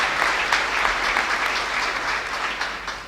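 A theatre audience in Teatro Campoamor, Oviedo, stands to applaud at the 1986 Prince of Asturias Awards ceremony, a dense, loud, sustained wash of clapping from a large crowd.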